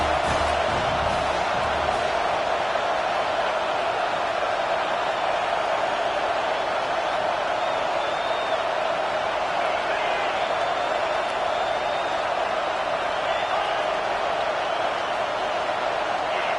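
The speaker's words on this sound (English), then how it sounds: "with this place rocking, the crowd forces a false start." Stadium crowd noise in a Madden football video game: a dense, steady roar of a rocking home crowd holds at an even level the whole time, with no distinct cheers or breaks.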